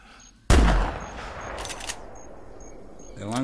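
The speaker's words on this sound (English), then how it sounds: "let's pull out my old rifle" A single loud rifle shot rings out while hunting banteng in the video game theHunter Classic, a sharp crack that decays into a long echoing tail, with faint chirping ambience around it.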